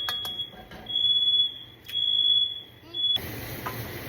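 An indoor smoke alarm goes off in loud, piercing high beeps in repeated bursts, with some thumps and a faint voice in between.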